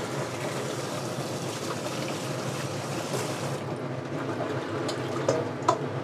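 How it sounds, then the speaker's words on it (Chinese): A kitchen knife is washed with dish soap under a running tap. Water rushes steadily, the flow shifts partway through, and a few light clinks sound near the end. "咁我刀我都要洗一洗佢啊"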